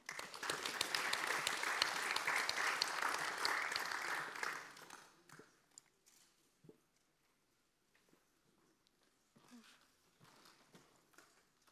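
Loud applause from a conference audience rings out for several seconds, then fades away, leaving a quiet room with a few scattered sounds.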